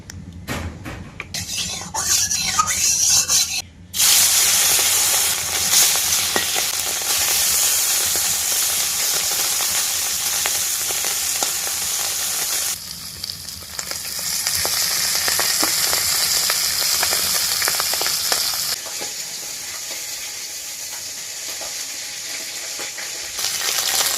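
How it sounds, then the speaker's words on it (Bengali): Fish fry in hot oil in a wok, a loud, steady sizzle and hiss that continues close up, with occasional stirring clinks and spatters and shifts in intensity as pieces are added or moved. "তেল দিয়ে দিচ্ছি এখন মাছগুলো ভাজতে হবে"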